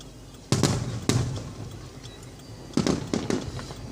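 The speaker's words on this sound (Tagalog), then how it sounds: "Mahaba-haba talaga ang fireworks nila." An Eid fireworks display in Al Khobar sends out four sharp bursts, in two pairs separated by a short lull, booming at moderate distance over a low background hum.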